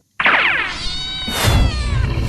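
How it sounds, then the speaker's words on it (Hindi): A cat meows loudly and close, one drawn-out wailing call that rises into a second strained cry, with no talk over it. "ये कुत्ता बेचारी बिल्ली को परेशान कर रहा है"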